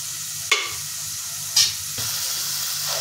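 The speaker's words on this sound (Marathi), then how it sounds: "आपण त्याच्यामध्ये कांदा टाकून परतून घेऊया। सोनेरी रंग येईपर्यंत आपल्याला ते परतून घ्यायचे।" Onions sauté in hot oil and ghee in a pan for a dhaba-style mushroom masala, giving a steady close sizzle broken by a few sharp spatula scrapes and clicks, with no talk.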